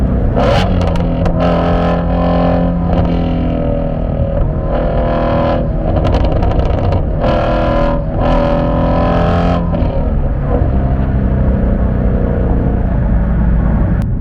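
A Ford Shelby GT350 V8 is floored hard through a corner, loud and close, its engine note rising in repeated surges as gears shift, with a steady underlying rumble and no talking.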